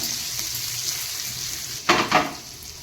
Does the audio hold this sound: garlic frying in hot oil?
yes